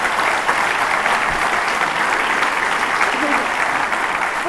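An audience at a conference talk on economics claps loudly and steadily for several seconds, a dense, even wash of applause filling the room.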